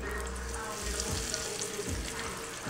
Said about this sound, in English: I take one onion ring, and you see how it starts to bubble like that?